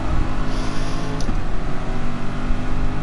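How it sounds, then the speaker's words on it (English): A car engine roars at high revs in the racing game GT Sport, a loud, steady drone that holds constant with no pauses for the full few seconds. "the engine sounds are a lot better"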